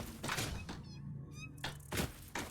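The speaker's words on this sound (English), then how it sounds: "Okay, I do hear cats," Two short meows from cats in the Satisfactory video game, mixed with several dull thunks and thuds.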